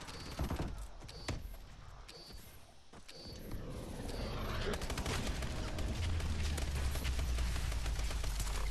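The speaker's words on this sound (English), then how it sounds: "Calling in my DNA bomb." A DNA bomb killstreak in Call of Duty: Advanced Warfare, with scattered gunfire and mechanical clicks giving way to a rising, sustained roar of detonation that builds and holds loud to the end.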